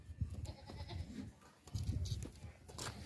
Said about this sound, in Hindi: वजनी बकरा है, बड़ा बकरा है